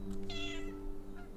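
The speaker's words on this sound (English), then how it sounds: "She was a feral kitty, but she's lived with me for like 7 years now" A former feral house cat meows twice up close, one clear drawn-out meow followed by a fainter short one, over a steady low electrical hum in a quiet room.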